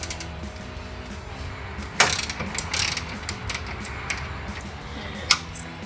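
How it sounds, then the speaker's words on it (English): A 13mm socket wrench ratchets off a support brace while a cold air intake goes into a 2019-2023 Silverado/Sierra 1500, with a few quiet clicking bursts and one sharper metallic tick up close. "Next, I'm going to take the 13mm socket wrench and remove the support brace here."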